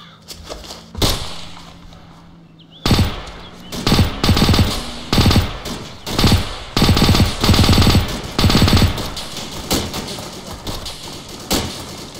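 Rapid bursts of automatic gunfire crackle loudly in repeated volleys, with short pauses between them, after a quieter opening stretch, in the video game Arma, during a 1944 invasion village sweep.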